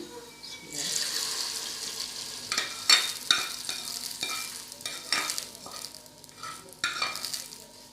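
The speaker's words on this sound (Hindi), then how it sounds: "ये देखिए अब हम इसमें ये बघार ऐड करते हैं" Hot tempering poured into saag gosht, a close sizzle and bubbling rush with clinks and stirring scrapes, bursts rising and settling over several seconds.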